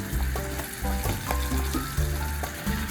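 Pieces of pork hock meat dropped into a pot with tomato, garlic, onion and water, giving a steady close bubbling and sizzling with soft splashes and clatters as the meat goes in.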